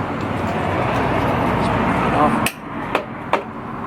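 During engine removal on a Kawasaki KZ400, a long screwdriver is hammered to pound out a small part: three sharp metallic strikes ring out one after another over a busy workshop background.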